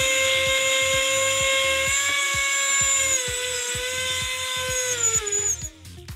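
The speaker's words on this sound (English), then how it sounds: "I also pre-drilled a few holes in my bracing so I can attach my butcher blocks more easily later on." A power drill whines at high pitch while pre-drilling holes in wooden bracing for a kitchen island, running close and loud for several seconds with rapid rhythmic chatter before slowing near the end.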